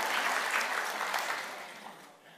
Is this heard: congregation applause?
yes